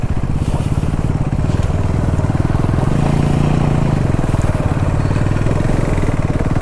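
Royal Enfield Himalayan 450 motorcycles ride off-road carrying pillion passengers, a steady, close, throbbing single-cylinder engine drone that swells briefly mid-way before settling back to an even chug.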